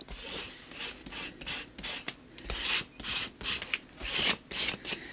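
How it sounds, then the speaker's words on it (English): Scraping the top layer off partly dry collage paper, a series of raspy rubbing strokes in an uneven rhythm, close and fairly loud with no talking. "I'm scraping off some of the top layer, some of it's staying"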